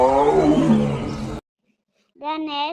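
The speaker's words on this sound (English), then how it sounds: "The national animal is tiger." A tiger roars loudly and close in a long, rich growl, then a short gap of silence before a second, brighter roar-like call.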